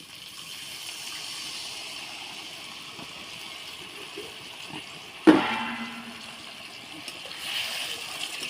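Water poured in a short gush into a pan of egg curry cooking on the stove, a brief splash followed by a steady trickle and the sizzle of the simmering sauce.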